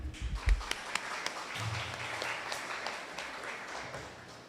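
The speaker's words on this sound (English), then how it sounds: "Let's clap for Ma'am Tina." An audience at an indigenous language rights policy launch claps together after a presentation, a steady moderate patter that stays fairly even and fades slightly toward the end.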